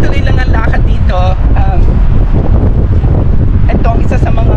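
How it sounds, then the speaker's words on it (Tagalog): Strong, gusty wind blows in Dublin City under cloudy skies, buffeting the microphone with a loud, constant roar throughout, while faint voices come and go in the background. "medyo cloudy at medyo malakas ang hangin dito sa Dublin City."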